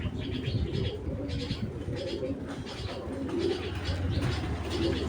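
Soft, repeated cooing from pigeons, including a male Homing Python, fills the background, low and murmuring, with occasional light chirps mixed in.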